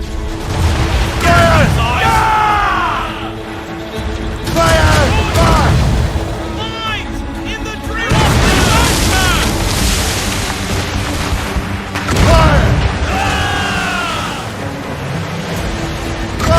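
Ship cannons fire in the video game Assassin's Creed Rogue, a run of heavy booms and rumbling blasts with crew voices shouting between the volleys.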